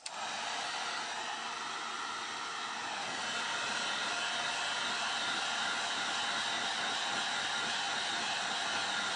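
A small hand-held dryer blows continuously on a craft project coated in Mod Podge, a loud, steady, close whoosh that starts abruptly and holds without a break, with no voices.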